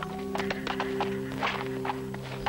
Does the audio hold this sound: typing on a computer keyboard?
no